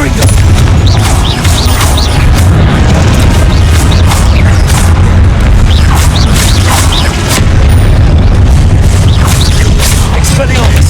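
Repeated loud booming blasts from Confringo spells in the Hogwarts Legacy video game pound continuously over a dense, noisy battle bed, with spoken spell calls mixed in.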